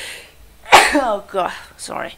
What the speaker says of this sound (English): Sorry about that sneezing thingy.